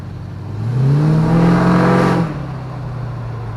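LS-swapped Chevrolet Nova with a 4L80E transmission pulling away on its first drive down the block, engine note rising loud and close for about a second and a half, then dropping back to a steady idle-like hum.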